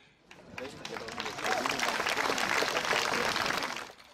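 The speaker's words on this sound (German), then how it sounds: "Applaus" Audience applause at a speech, a crowd clapping steadily that swells, holds for a few seconds and then fades out.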